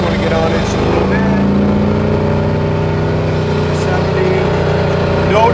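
A 1970 Buick Skylark GSX tribute accelerating from about 60 mph on the highway, its engine note holding a steady droning pitch with rising tones, close and loud with some speech over it.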